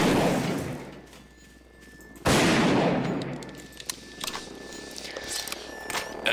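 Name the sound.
double barrel shotgun firing in video game Garry's Mod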